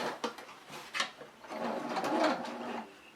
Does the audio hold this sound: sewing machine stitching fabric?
yes